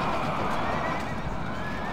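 A general's horse neighs on a Rome: Total War battlefield, its whinny mixed into a dense, steady wash of battle noise at moderate volume.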